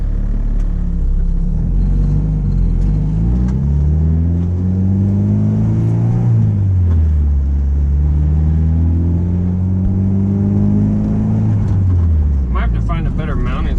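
A Honda Integra fitted with Hasport engine mounts idles and revs, its engine pitch rising and falling in long sweeps while the dashboard rattles throughout; someone talks over the steady running engine.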